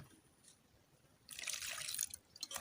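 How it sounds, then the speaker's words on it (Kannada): Water is poured into squeezed wild mango juice for a homemade soda, a short close splashing trickle that starts after a quiet moment and lasts about a second before tapering off. "ಇದಕ್ಕೆ ನಾನೀಗ ಸ್ವಲ್ಪ ನೀರನ್ನು ಕೂಡ ಸೇರಿಸಿಕೊಳ್ತಿದ್ದೇನೆ."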